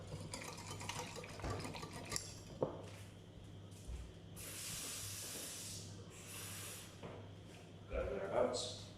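Water is poured into a bowl of whisked eggs and milk, a soft hissing splash lasting a few seconds in a home kitchen, with brief clinks and quiet talk around it.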